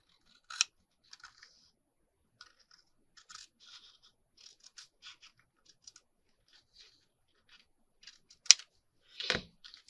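Scissors cutting paper while an envelope flip booklet with pockets is being made: sparse, faint, crisp snips and small scrapes spread across a quiet stretch, with one sharper louder snip near the end.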